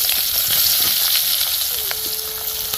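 Onions and chillies hiss and crackle as they hit hot oil in a pan for a Dabka fish curry, a loud, steady close-up sizzle with small pops throughout.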